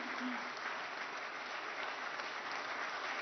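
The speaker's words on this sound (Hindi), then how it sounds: "और सुनीता जी के लिए एक बार जोरदार तालियां" Steady, dense applause from an audience at an award ceremony in Delhi, a continuous wash of clapping with no pauses, fairly distant and even in level.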